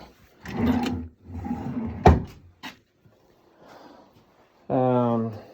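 A small wooden drawer on a shop-built automated router table with a Kreg/CMT7E lift slides and knocks shut in two sharp, close knocks, with someone talking before and after.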